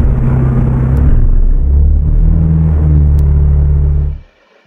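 A truck engine in Euro Truck Simulator 2 starts and idles with a loud, deep, steady rumble, close and continuous for about four seconds before cutting off abruptly.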